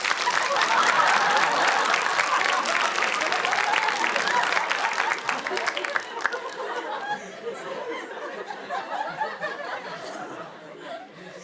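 Audience in a stand-up comedy hall applauding loudly in a dense burst that tapers into scattered claps, light laughter and chatter.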